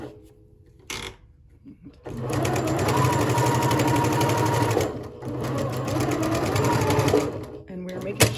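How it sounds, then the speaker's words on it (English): A sewing machine runs in steady rapid stitching bursts while back stitching a quilt seam, with a brief start, a short pause mid-run, then stitching again, loud and close. "we're gonna sew to back stitch in the seam"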